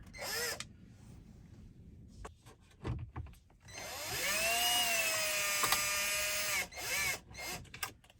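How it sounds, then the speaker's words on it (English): A cordless drill with a T15 Torx bit whirs in several short bursts, then holds a longer steady run with a rising pitch, close by and loud, driving screws during a GM digital dash install. "I got a cordless drill here."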